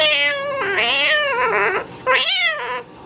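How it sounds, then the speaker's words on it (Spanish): A cat meows loudly and close up in several drawn-out, pitch-bending cries with short gaps between them, no talking over it. "Es un gato."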